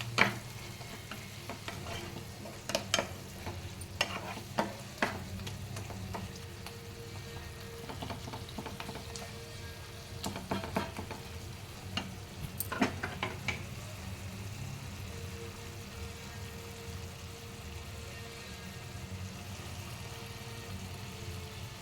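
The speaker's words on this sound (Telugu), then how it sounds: "చికెన్ మంచిగా ఫ్రై అవుతుంది." Chicken semi-fry sizzling steadily in oil in a pan for a home-style chicken curry, with repeated scraping and clattering stir strokes spaced through the continuous frying hiss.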